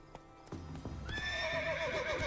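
A horse in The Witcher 3 video game whinnies loudly with a long, falling neigh while hooves clip-clop underneath, close and clear, with no speech over it.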